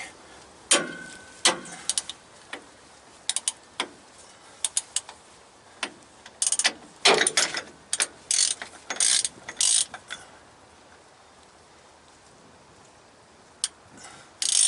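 A ratchet wrench turns a bolt on the S cam of a three-axle semi trailer brake, giving bursts of rapid metallic clicking with pauses between, close and crisp, then falling quiet near the end.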